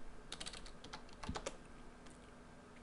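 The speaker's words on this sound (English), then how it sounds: "Let's type in comma robust." A computer keyboard clicks in a short, close run of keystrokes while a Stata command is typed, the presses coming in quick clusters with brief gaps.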